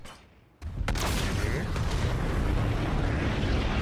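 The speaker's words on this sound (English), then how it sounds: "Cool guys walk away from the explosion." An explosion in a video game sets off with a sudden loud boom after a quiet opening, then a sustained roaring, rumbling blast with a few crackling hits, loud and dense to the end.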